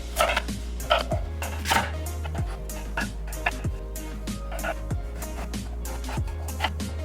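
A knife chops fruits and vegetables on a cutting board for a blended drink, sharp irregular thuds repeated many times, close and clear over a low background hum.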